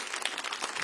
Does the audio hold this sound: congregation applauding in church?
yes